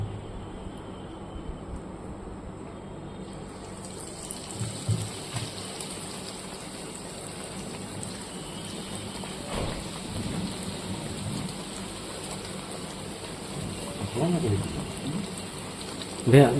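Battered eggplant fritters (beguni) fry in hot oil, giving a steady, crackling sizzle that holds throughout at moderate level, with a few louder spits near the end.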